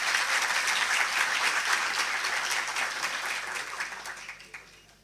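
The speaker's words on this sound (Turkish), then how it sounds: "Kadınlar için bir alkış istiyorum arkadaşlar." A licensing ceremony audience applauds for women, a dense, loud round of clapping that holds steady and then gradually fades toward the end.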